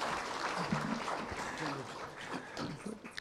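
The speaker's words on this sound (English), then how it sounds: "Another round of applause for our Deputy President." Crowd at a Naivasha event applauding the Deputy President, continuous clapping with some voices and crowd murmur mixed in.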